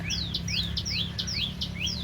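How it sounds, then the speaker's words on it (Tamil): Small birds, crows and sparrows among them, call outside a family home during a child's naming ceremony, giving a run of quick repeated chirps over a steady low hum of background noise. "காக்கா குருவி எல்லாமே கத்துது"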